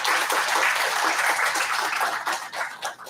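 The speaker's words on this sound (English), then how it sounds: "may I have a big round of applause from your students for speaking here" Big round of applause from a crowd of students at an inauguration program, dense, sustained clapping, loud and close, fading slightly near the end with no voices over it.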